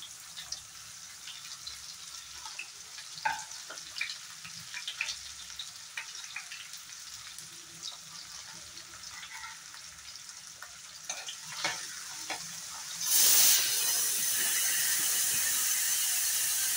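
Chopped onion added to oil over a raised gas flame, soft kitchen clatter and quiet frying giving way near the end to a sudden loud, steady sizzle close by.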